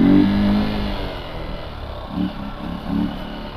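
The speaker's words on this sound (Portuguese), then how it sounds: "Motinha é boa demais, tá doido" A small motorbike engine idles low, then revs in two short, throaty bursts near the end, close by with no talk over it.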